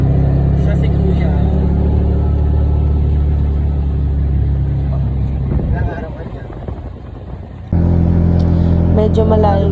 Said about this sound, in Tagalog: From Balatero Port, sumakay kami ng tricycle papunta dun sa hotel.